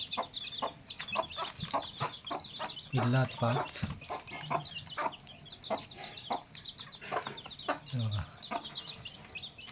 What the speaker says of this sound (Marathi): आपण मामाकडनं कोंबडी आणलेलं तुमका दाखवतोय